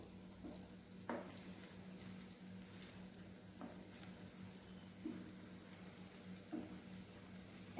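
Biulir dal rosh bora, black gram lentil fritters, frying in hot oil in a wok, a soft steady sizzle with occasional faint pops and clicks from the pan.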